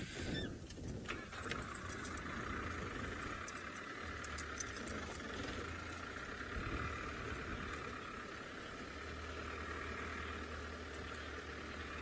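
A safari vehicle's engine idles and rumbles at a moderate distance while it turns around, with bumps, rattles and a few sharp clicks over the steady low hum.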